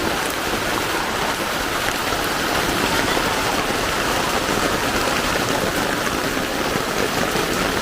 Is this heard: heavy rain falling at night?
yes